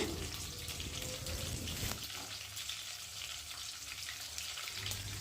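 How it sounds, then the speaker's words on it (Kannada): Green chilli, cumin, pepper, curry leaves and cashews fry in hot oil in a pan for a khara pongal tempering, a steady, fairly close crackling sizzle that continues without a break. "ಪ್ಯಾನ್ ಬಿಸಿ ಆದಮೇಲೆ ಎಣ್ಣೆ ಹಸಿಮೆಣ್ಸಿನ್ಕಾಯಿ ಎಲೆ ಜೀರಿಗೆ ಮೆಣಸು ಗೋಡಂಬಿ ಇದನ್ನೆಲ್ಲ ಹಾಕಿ ಎಲ್ಲ ಫ್ರೈ ಮಾಡ್ಕೊತಾ ಇದ್ದೀನಿ"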